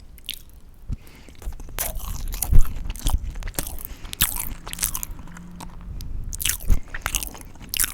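Close, crisp bites and crunchy chewing of the last bit of carrot cake, with irregular sharp crunches and soft wet mouth sounds and no talking.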